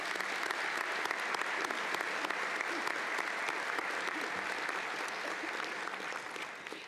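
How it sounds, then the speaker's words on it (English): A Millikin University commencement audience applauds Dr. Stephen Freck, an even, moderately distant wash of many hands clapping that holds for about seven seconds and fades slightly at the close. "Please join me in a round of applause for Dr."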